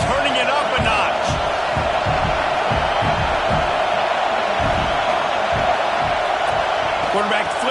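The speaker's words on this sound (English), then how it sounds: "this crowd is turning it up a notch" A stadium crowd at the FSU vs Clemson college football game roars steadily and loudly, a dense wall of cheering with thumping stomps and whoops, with a commentator's voice faintly mixed in.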